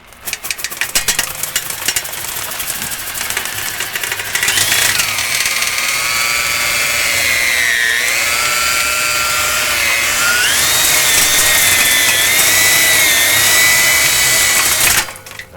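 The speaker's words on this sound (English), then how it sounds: "Now let's go ahead and turn the drill on and see if we can get it up there more." A power drill spins flexible chimney cleaning rods with a brush inside a chimney, a steady loud whirring hum that rises and bends in pitch as the rods turn, running continuously after a short start with no talk.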